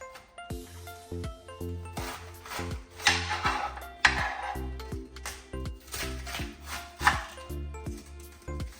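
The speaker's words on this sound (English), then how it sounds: "Then I'll turn it flat like that and just keep cutting around it." Knife chopping through a head of cabbage around its core on a board, a steady run of crisp, close cuts with a few louder thunks.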